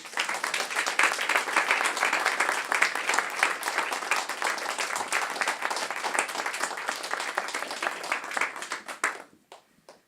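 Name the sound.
audience applauding the play's author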